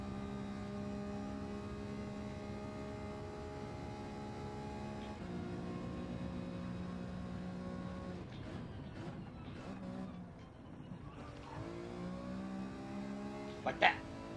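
Race car engine in the Gran Turismo 7 racing game, a steady high-pitched whine that shifts pitch through gear changes and braking, held at a moderate level throughout.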